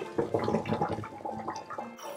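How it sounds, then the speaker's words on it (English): Blanched chicken feet rinsed in water for a soup, giving soft, irregular sloshing and gurgling splashes, fairly quiet and close, with no talking. "All the junk come out, dunk it and rinse it."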